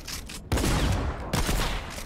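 Gunfire in a shooter video game: dense, loud rapid bursts in two stretches separated by a brief pause, close and dominating with no voice over it.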